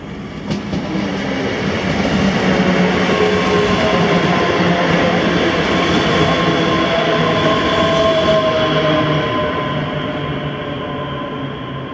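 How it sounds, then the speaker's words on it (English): A ScotRail service to Glasgow Central passes through Paisley Gilmour Street, loud and close, with steady wheel rumble, rhythmic clatter over rail joints and faint tonal whines. "This is 1G10, the 1422 ScotRail service to Glasgow Central from Gilmour"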